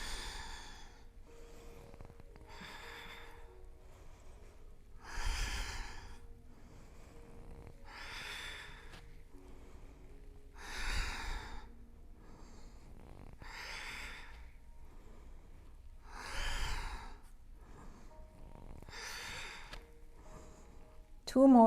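Slow, deep breaths during a yoga flow repeat in an even rhythm of inhales and exhales, close and soft, with a few heavier exhales standing out and no speech over them.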